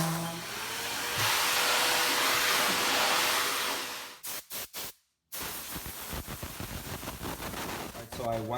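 Vacuum and compressed air blowing over a painted softwood height-ruler board make a loud, steady hiss for about four seconds, followed by a few short bursts, a brief silence, and then a person talking.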